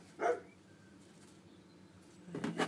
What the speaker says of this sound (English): so my dog in the background